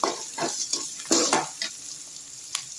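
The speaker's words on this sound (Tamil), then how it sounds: "இஞ்சி பூண்டு பேஸ்ட்டை போட்டு நல்லா வதக்கி விட்டுருவேன்." Onions sautéing with ginger garlic paste in a pan, a soft sizzle under repeated spoon stirs and scrapes against the metal, close and fairly quiet, no talking.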